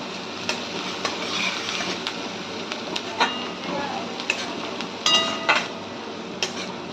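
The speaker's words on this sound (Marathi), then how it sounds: "कांदा कढीपत्ता आता थोडासा आपण फ्राय करून घेऊया" Onion and curry leaves fry in a pan, giving a soft, steady sizzle with scattered sharp clinks and scrapes from stirring, heard close but at low volume.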